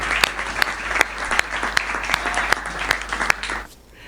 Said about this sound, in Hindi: यहाँ से लेकर और वहां तक हाथ उठाकर बजाओ ताली